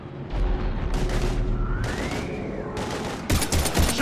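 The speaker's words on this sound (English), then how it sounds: "we're taking heavy fire" Heavy gunfire in a video game battle: sustained bursts of rapid automatic fire and booming shots, loud and close, with a rising whine in the middle and a denser volley at the end.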